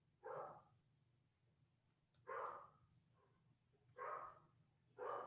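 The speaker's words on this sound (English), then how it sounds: "And we can hear my dog." A dog barks four times at a distance, each bark a short pair of yaps spaced about two seconds apart, faint against a quiet room hum.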